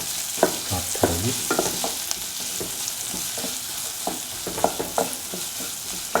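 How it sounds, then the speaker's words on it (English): Big onions and shallots fry in heated, salted oil for a stir fry, a steady close sizzle broken by repeated spatula stirs and scrapes, with a brief spoken word. "Into the heated oil, put in the big onions and the shallots"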